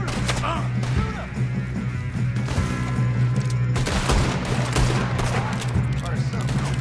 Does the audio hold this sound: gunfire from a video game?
yes